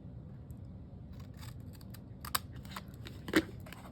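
Scissors cut paper straight across a score line while making a school or office organizer folder, quiet crisp snips and rustles with a couple of sharper cuts, close up and without talk.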